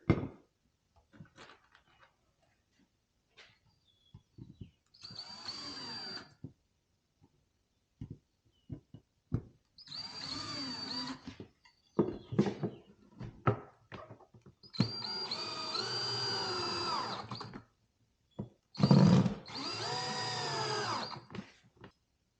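A power drill drives screws into two beehive boards strapped around a tree, with about five whirring bursts of a few seconds each, separated by quiet gaps and small clicks, close and clear.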